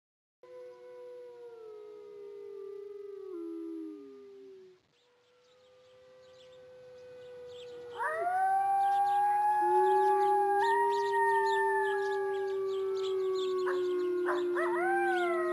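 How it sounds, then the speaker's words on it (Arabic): A wolf pack howls near a brown bear in the wild, with a single long, falling howl followed by several overlapping howls joining in, sustained and layered over a quiet background. "قطيع الذئاب يقترب من الدب البني"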